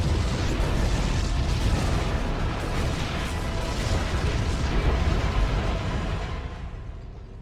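Dense, continuous rumbling blasts and booming explosions aboard a Protoss ship in the video game StarCraft 2, a thick roar that slowly fades near the end.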